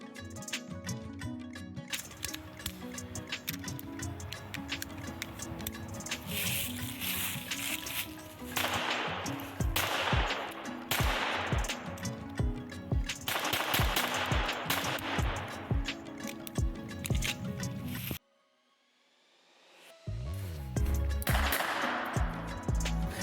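Rapid bursts of gunfire ring out while testing a Tomcat combination compensator and light mount, loud sharp reports fired in quick strings and volleys, broken by a short silent gap before more shots.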